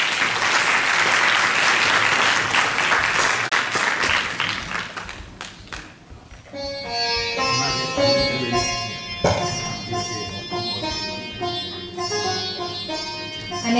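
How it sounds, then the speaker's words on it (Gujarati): An audience claps warmly to welcome two representatives of the Pushti Parivar in Leicester onto the stage at a devotional event; dense applause fills the first six seconds, then fades as melodic music takes over. "આપણે એમને તાળીના ગણગણાટ થી વધાવી લઈએ"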